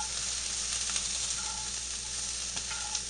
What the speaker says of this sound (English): Now you see the broccoli and peppers are starting to sear.